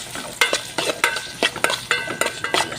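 Garlic sizzling and browning in a frying pan as onion is mixed in, with a spatula scraping and stirring in a steady rhythm of about a dozen sharp strokes over a constant close, loud sizzle.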